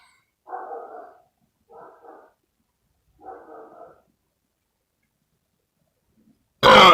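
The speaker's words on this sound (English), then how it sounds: "Oh, that was my first burp." Three short, throaty burps follow one another a second or so apart after drinking soda, moderately loud and close. A sudden loud, harsh noise closes the sequence.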